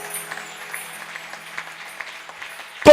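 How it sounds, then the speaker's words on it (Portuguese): Faint, scattered clapping from a church congregation, soft and distant, ending in a sudden loud burst of noise. "Palmas para o Rei da Glória."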